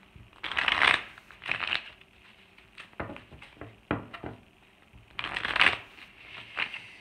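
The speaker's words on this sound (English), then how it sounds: "Cards are a little tricky here, so I'm going to be cutting them probably soon." A deck of tarot cards being shuffled and cut, with two long riffling bursts at the start and end and lighter taps and flicks in between, close and fairly soft.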